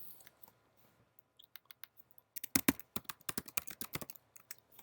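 Typing on a computer keyboard, sparse light key taps at first, then a faster, louder run of close clicking keystrokes, with no talk over it.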